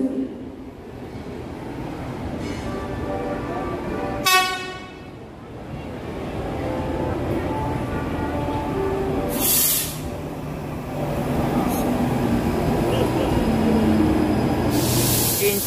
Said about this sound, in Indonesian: Rail bus Batara Kresna sudah tersedia di jalur 1.